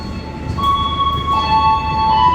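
A passenger train made up of baggage and economy cars rolls past close by, giving a loud, steady rumble of wheels on rails with thin, sustained metallic squeals above it.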